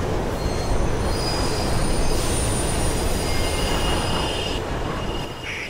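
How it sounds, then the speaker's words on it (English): Train rushing through a tunnel in Mirror's Edge, a loud continuous rumble with high metallic wheel squeal passing close throughout. "There's a train coming behind you."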